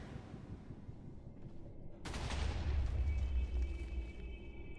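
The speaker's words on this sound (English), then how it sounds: "Dang, I just heard explosions." Explosions in a Minecraft modpack game: a sudden loud booming burst after two seconds of quiet ambience, with a sustained rumble and crackle that continues and slowly fades.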